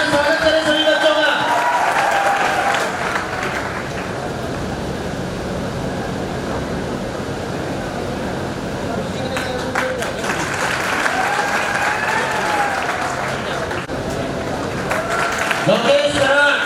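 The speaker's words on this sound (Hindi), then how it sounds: "जोरदार तालियों से स्वागत करें सभी बच्चों का।" Audience at a coaching institute's student success celebration applauding the students, a broad wash of clapping and crowd noise that swells loud at the start and end with a thinner stretch between.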